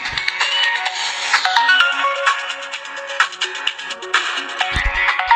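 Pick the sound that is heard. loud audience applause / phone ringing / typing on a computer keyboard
phone ringing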